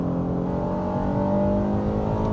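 A 2024 Honda Passport Trailsport engine revs past 3,000 RPM, a loud, steady, rising drone that holds for the whole stretch with no voices over it.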